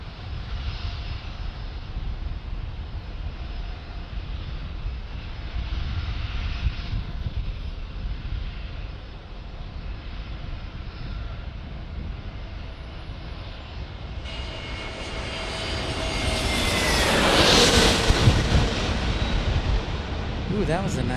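An Allegiant Airbus airliner passes at San Diego airport at night, a continuous loud engine roar that swells to a rising whine and peaks as it goes by, with broadband wind noise throughout.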